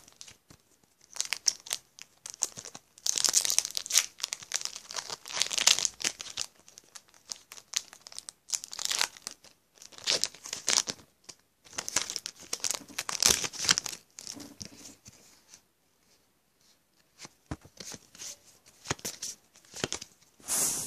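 Pokemon card booster packs, a Sword & Shield Breakpoint pack among them, crinkling and tearing open up close, with bursts of foil crumpling and ripping spread across about twenty seconds between short quiet pauses, no talking.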